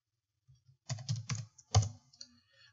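A command typed on a computer keyboard: a quick burst of close, crisp key clicks after a short pause, then a few scattered taps trailing off, with no talking.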